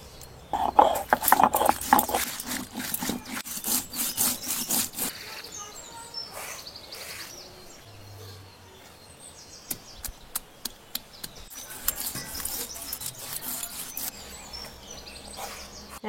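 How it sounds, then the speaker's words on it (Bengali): Dry chilli, cumin, peppercorns, coriander, garlic and ginger are ground on a flat grinding stone, giving quick rhythmic scraping strokes that are loudest early and then turn sparser, with occasional birds faintly in the background. "এগুলো আমি এখন শিলে বেটে নেব।"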